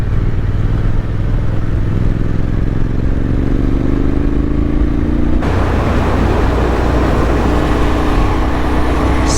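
A motorcycle engine drones loud and close on an adventure ride toward Carnum Road, its pitch rising gradually as the bike accelerates, then shifting into a rougher, broader roar with wind.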